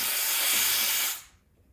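Steam wand on a Sunbeam EM7000 coffee machine frothing milk: a loud, close, steady hiss that runs for about a second, then cuts off abruptly, leaving near silence.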